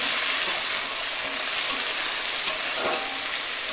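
Ginger garlic paste frying in a pan for a fish curry, giving a steady, close sizzle with faint stirring scrapes throughout.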